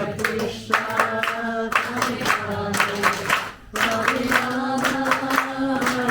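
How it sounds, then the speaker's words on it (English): A crowd at an 80th birthday gathering in Liverpool claps in steady rhythm along to a Hare Krishna chant, sung voices and handclaps mixed together with a brief dip midway. "Let's get the clapping."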